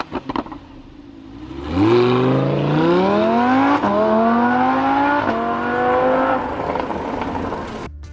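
A Lamborghini Performante's 5.2-liter V10 starts with a few short blips, then revs loudly and steadily upward through a long, rising wail held for several seconds before easing off.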